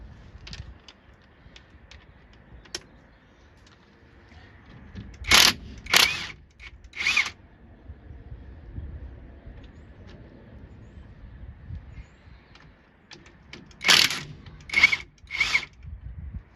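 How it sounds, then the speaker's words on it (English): Impact wrench on a brake bolt of a Chevy Express cargo van: two clusters of three loud, short hammering bursts, separated by several seconds of quiet shop background with faint clicks. "It'll be a little bit easier to get this off with the impact."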